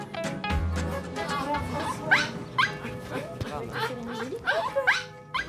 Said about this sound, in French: Aujourd'hui, son chien Snoopy a rendez-vous pour un toilettage complet.